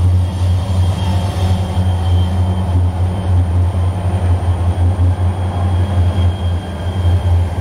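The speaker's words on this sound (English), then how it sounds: "Sounds like a big freight train coming." A heavy freight train with five engines rumbles past in a steady, continuous low roar with faint metallic squeals, close by and unbroken throughout.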